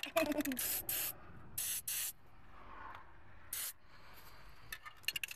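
Grease lubricant sprayed onto the hinge of a car or truck door that is hard to close, heard as several short, close hissing bursts separated by pauses.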